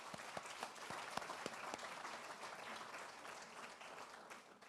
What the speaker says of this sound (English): Let's give a hand of applause to the parents.